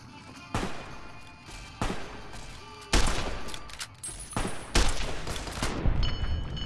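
Gunfire in the video game Fallout: New Vegas: several sharp, loud shots and short bursts at irregular intervals, each with a ringing tail, growing denser toward the end, with no talk over them.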